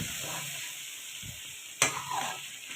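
Mutton karahi with stock being stirred in a pan, a soft steady sizzle with scraping stir strokes and a sharp clatter near the end, close and fairly quiet, no talking.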